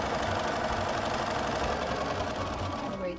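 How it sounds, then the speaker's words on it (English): A sewing machine stitching a cloth face mask, running fast and steady at close range with a dense, even whirring hum throughout. "From here, you go back to the machine and start sewing again and back stitch"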